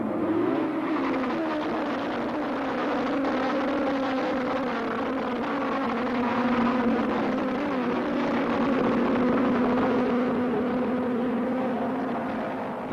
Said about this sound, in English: deafening, marvelous moment when the cars rev up and go.